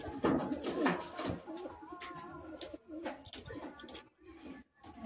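Madrasi high-flying pigeons cooing in a group, soft repeated throaty coos and rustling close by, rising and falling irregularly, with faint voices in the background.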